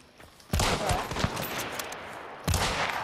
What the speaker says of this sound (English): Let's turn around and shoot him.